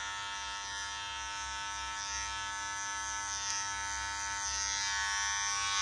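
Electric hair clipper buzzing steadily while cutting a customer's long hair at a barber shop, a close continuous hum with slight rises in pitch as it moves along the nape.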